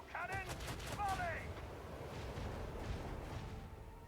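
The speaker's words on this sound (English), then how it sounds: "Macro cannon, volley." A macro cannon volley fires in the video game Warhammer 40K: Rogue Trader, a dense rumbling barrage of booming shots that rolls on and fades, with a voice speaking briefly at the start.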